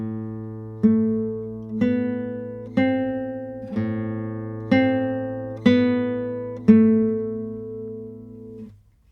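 Classical guitar playing an Andante with rest strokes on the treble strings, six evenly spaced plucked chords ringing over a low sustained bass, close and clear with no talking, fading at the end.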